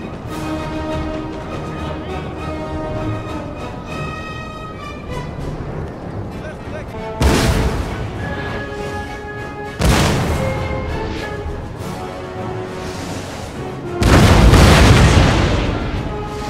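Three heavy cannon booms from artillery in the Total War: Napoleon battle game, spaced a few seconds apart, the last one loudest and longest, each breaking through a steady musical score.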